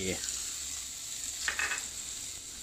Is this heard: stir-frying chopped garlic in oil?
yes